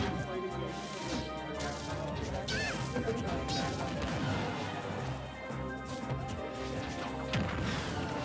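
Back air attacks land in a Super Smash Bros. grand finals between Pikachu and Piranha Plant, with repeated punchy smash and thwack hits over busy game sound. Excited commentary runs on top.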